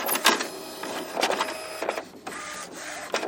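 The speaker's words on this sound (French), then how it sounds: "Heureusement aujourd'hui, une imprimante, c'est plutôt ça." A modern inkjet printer runs close by, its print head shuttling back and forth with whirring motor passes broken by sharp clicks and thumps as the paper feeds. No one speaks.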